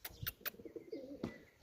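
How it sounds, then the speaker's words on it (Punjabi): Pigeons cooing outdoors in the morning, a soft throaty coo running close by between a few quick flutters or taps, quiet overall with no voices. "ਕਿੰਨੇ ਕਬੂਤਰ ਨੇ"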